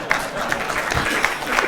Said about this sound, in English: Applause for that joke.